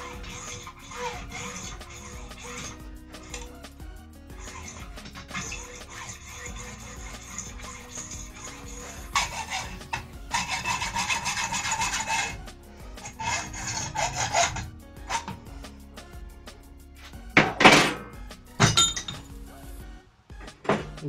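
Metal is cut by hand along a scribed line while a metal marking gauge is made, giving steady back-and-forth rasping strokes that grow louder later, with occasional sharp clinks, close and alone.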